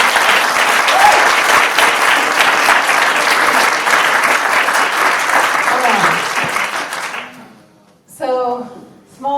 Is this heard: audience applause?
yes